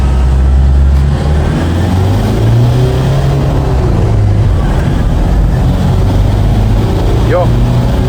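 Toyota Quantum 2.5D sixteen-seat diesel taxi pulling away in first gear, a steady loud engine drone rising slowly in pitch, heard from inside the cabin.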